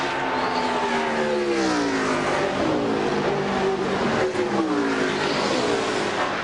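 NASCAR Cup race cars on the final lap of the Brickyard 400 at Indianapolis roar past one after another, their engine pitch rising and falling as each car sweeps by, loud and continuous over crowd ambience.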